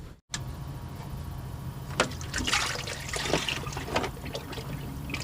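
Coolant drains from a Dodge Grand Caravan radiator after the lower hose is pulled, a close, steady trickle and splash of liquid into a pan with a few sharper spatters, alone without talk.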